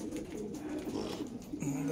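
Racing pigeons in training coo steadily and close by inside a loft, producing low soft rolling calls for under two seconds.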